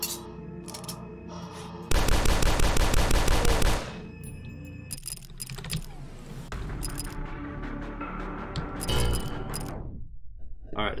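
Gunfire from turrets in the video game Dusk, dense rapid bursts with a loud sustained volley early on, followed by scattered shots and clanks under game sound effects.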